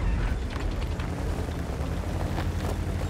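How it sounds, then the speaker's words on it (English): Tank cannon fire in World of Tanks, a Progetto 65 letting off blind shots: a dense, rumbling boom and sustained low roar that stays loud and steady throughout, with no talking. "Let's go for one blind shot. Let's go for two blind shots."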